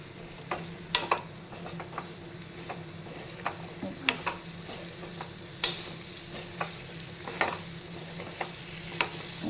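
Food sizzles in a pan on a gas stove with the flame turned up, a soft continuous frying hiss broken by scattered sharp clicks and scrapes of stirring, close but fairly quiet.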